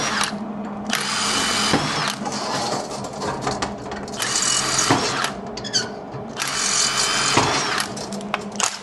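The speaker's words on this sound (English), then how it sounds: "let's drill and tap those holes out so my latches could go in." A power drill bores holes into the steel frame of a 1965 VW Safari window setup, running in several loud whining bursts with short pauses between them, close up and without voices.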